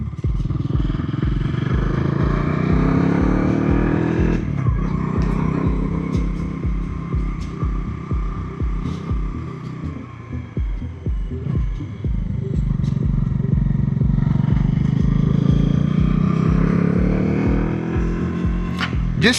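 A Bajaj Dominar 400 motorcycle climbs uphill with a steady, throbbing single-cylinder engine note that dips briefly and then pulls strongly again, loud and close, with someone talking over it.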